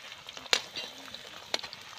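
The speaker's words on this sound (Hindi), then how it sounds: "अभी अच्छे से फ्राई होने दो," Turmeric and spices frying with onion in a pan for a village-style Bihari chicken curry, a soft steady sizzle broken by two sharp spoon clinks against the pan, close up and without talk.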